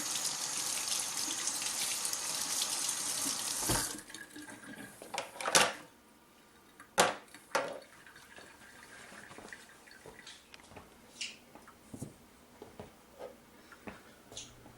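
Water gushes from a tap over small model tug boat parts for several seconds, then stops and gives way to scattered drips, splashes and handling knocks at close range.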